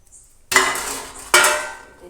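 A spoon scraping and knocking in a pan while mixing jaggery, grated coconut, ground peanuts and milk powder for peanut sukhdi with the flame off, two sharp metallic strokes each fading out, close and alone.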